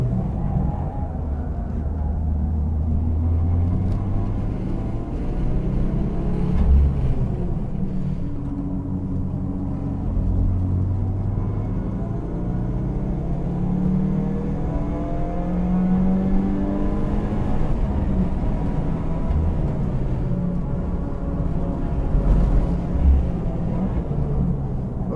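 A 2015 Subaru WRX driven hard around the Thunderhill West track, its engine droning loudly and steadily from inside the car as the pitch climbs and falls through gear changes, with no talking.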